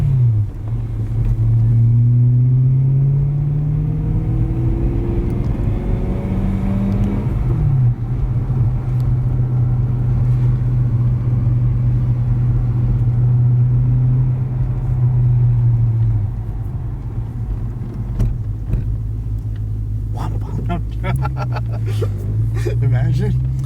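Inside a BMW E90 M3 on a test drive after a rod bearing replacement, the engine hums and rises and falls through gear changes, with a quick blip of revs near the end under steady cabin rumble while people talk.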